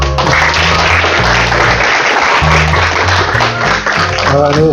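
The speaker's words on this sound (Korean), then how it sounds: "선생님 준비 다 되셨으니까 큰 박수로 모시겠습니다." An audience at a Korean seminar on hospital asset succession gives loud, sustained applause to welcome a speaker, a dense wash of clapping over music.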